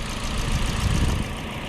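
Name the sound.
idling 1.6 liter 4-cylinder engine of a 2022 Toyota Corolla Altis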